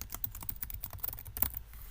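Rapid, close typing on a computer keyboard, with quick irregular keystrokes clattering steadily with no pauses and no voices.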